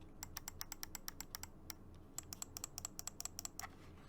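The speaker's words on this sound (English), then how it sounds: "I love the sounds this mouse makes" Buttons of a Razer Viper Mini gaming mouse click crisply and close, about a dozen quick, evenly spaced clicks, a short pause, then another run of rapid clicks, with no talk.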